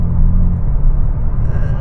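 A Honda Super N car pulls hard from a standstill toward 60 mph, its engine a steady low rumble that stays loud and close throughout this brief stretch.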